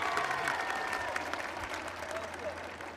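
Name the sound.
audience applause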